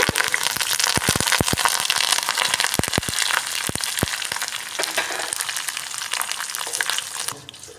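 Halved green chillies and curry leaves hit hot oil with a loud, crackling sizzle, sharp pops scattered through the first half before the frying settles and fades slightly at the end.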